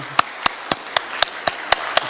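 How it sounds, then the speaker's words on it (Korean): A church congregation in Uijeongbu claps in unison, with eight sharp, evenly spaced claps in a steady quick rhythm, loud and close, with no voices over them. "우리 박수하겠습니다."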